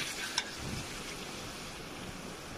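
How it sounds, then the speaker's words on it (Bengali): Kabuli chickpeas sizzle while being sautéed in a pan, a soft, steady frying hiss with a light clink of a utensil near the start. "এবারে কাবলি ছোলা দিয়ে দেব, দিয়ে আবার কষিয়ে নেব।"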